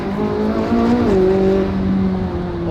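A McLaren 600LT supercar accelerating hard, its engine note climbing steadily in pitch as the wheels break loose, loud and continuous throughout with no talking.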